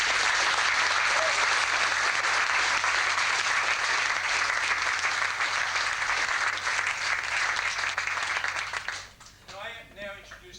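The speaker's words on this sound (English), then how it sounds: "I think they deserve another round of applause." A graduation audience gives a sustained, loud round of applause for about nine seconds before it fades, with a voice starting to speak at the end.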